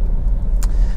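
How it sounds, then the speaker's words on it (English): A Lexus CT 200h 1.8 Premier hybrid hatchback with CVT and about 64,000 miles drives on the road, giving a steady low rumble inside the cabin with a brief brighter swish partway through. "this is a quick road test video, and this is for my Lexus CT200, premier model"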